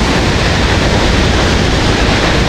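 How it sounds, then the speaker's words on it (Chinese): The Kaire waterfall near Gyirong in Tibet, seen from a viewing platform, pours down in a heavy, unbroken roar of falling water and spray, loud, close and constant throughout. "这水从上面一直流下来"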